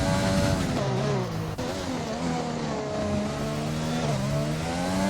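A race car engine in a sim racing game at Abu Dhabi, ERN Division 3 online league, howls steadily at high revs, its pitch climbing and dipping with gear changes, loud and continuous throughout.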